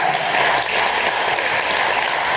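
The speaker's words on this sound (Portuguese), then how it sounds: "Agora eu convido a igreja a dar a mais forte salva de palmas ao Senhor Jesus." A church congregation gives a long, loud round of applause, dense steady clapping filling the room throughout without pause.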